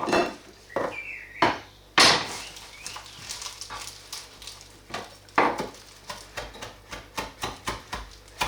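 Fresh herbs are chopped with a knife on a cutting board for cheese and ham pinwheels: a few scattered knocks at first, then a quick, even run of close, crisp chops toward the end.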